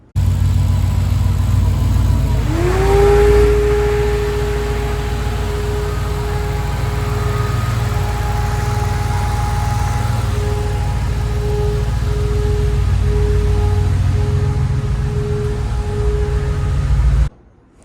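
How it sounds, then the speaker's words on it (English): A Dodge car engine cranks and catches after a couple of seconds, then settles into a steady, loud idle that drones on evenly until the end. "It's still got to be tuned, but I got it to where it'll start and idle and do the things."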